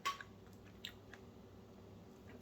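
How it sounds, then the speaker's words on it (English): Close, quiet bites and chewing on the crunchy crust end piece of homemade no-knead artisan bread baked in a Dutch oven, with a few soft crunches scattered across a hushed room. "I'm still crunching."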